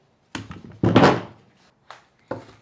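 A Milwaukee M18 Fuel 2744-20 cordless 21-degree framing nailer in single-fire mode sinking nails into wood: a few loud, close, hollow thumps, one heavier blow with a short ringing decay, separated by silence.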